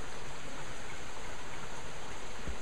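A stream runs steadily at a road culvert crossing, giving a continuous broadband rushing wash with no distinct splashes. It is close and even throughout and has no talk.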